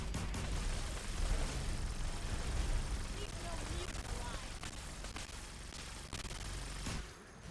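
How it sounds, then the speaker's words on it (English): An explosive Gatling plasma gun firing in Fallout 4, producing a dense, continuous barrage of rapid bursts and explosions that rumbles steadily for several seconds before cutting off near the end. "in case you're wondering what a explosive Gatling plasma is like in the hands of a player"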